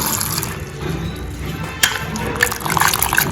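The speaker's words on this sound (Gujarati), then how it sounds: "તો પાણી એડ કરીશું" Water poured into a pressure cooker holding potatoes, set to boil for bread pakoda, gives a steady splashing rush with a couple of sharper spills near the end. It sounds close and fairly loud, with faint talk underneath.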